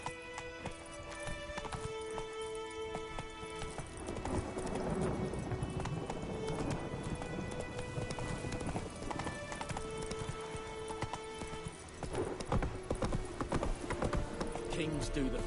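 Hooves of the horse Roach clip-clop in a steady trotting rhythm in Witcher 3, close and distinct, with occasional snorts and whinnies, set against a layered game soundtrack.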